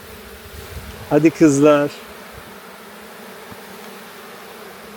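Honey bees hum steadily around beehives at an apiary in Çatalca, Istanbul, during honey harvesting, a soft continuous drone underneath a brief spoken call from a beekeeper.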